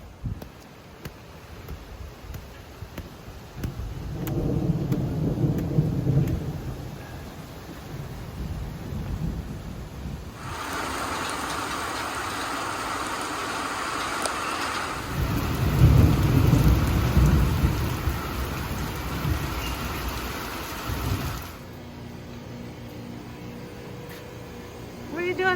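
Rain and thunder of a passing storm in a backyard with a smart watering system, a steady broadband wash with low rumbles rising and fading, heard near and moderately loud, with people talking faintly at times.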